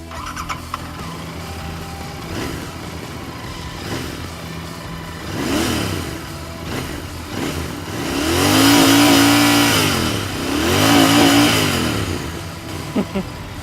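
A Royal Enfield Interceptor GT 650 motorcycle engine revs hard in several rising and falling sweeps, loudest and longest toward the end, with a steady idle rumble between them.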